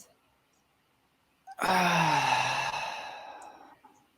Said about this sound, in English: Take another deep breath in. Hold it. And breathe out.